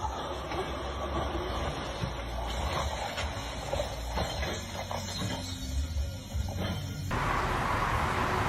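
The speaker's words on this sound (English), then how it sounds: "a train hauling ethanol derails as the track beneath it tears apart" Railway noise from a freight train hauling ethanol tank cars as it derails and the tankers tumble, a steady rumbling clatter with hiss and scattered metallic bangs that shifts abruptly near the end.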